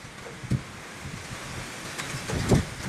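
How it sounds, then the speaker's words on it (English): Steady wind rumble buffets the microphone, with a couple of louder gusts thumping through; no voices. "It's so windy here."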